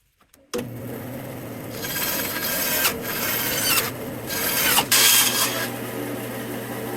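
Four-inch tape is cut in half on a composite deck build, giving a steady close rasping, tearing scrape that runs on for several seconds with a low background hum and a few sharper rips.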